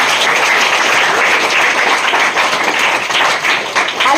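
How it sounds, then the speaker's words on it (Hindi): A church congregation applauds after a sermon, a dense, steady wash of many hands clapping that stays loud and continuous throughout, with no voices standing out. "जोरदार ताली बजाइए इस परमेश्वर के लिए"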